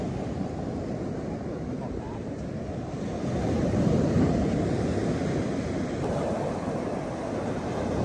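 Sea surf rolls steadily along the rocky Kỳ Xuân coastline, a continuous wash of waves with wind buffeting the microphone, swelling a little louder midway and staying constant throughout.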